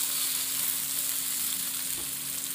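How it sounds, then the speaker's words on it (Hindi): Steady close sizzle of boiled egg chili frying in a hot pan while being mixed, a constant hiss with a faint low hum beneath and no voices. "इसे अच्छे से मिक्स कर लेते हैं।"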